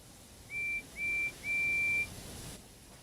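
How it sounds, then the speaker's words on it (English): A train guard's whistle sounds three shrill, steady blasts, two short and then a longer one, clear and fairly close against a quiet background. "the guard's whistle blew and the two engines set off"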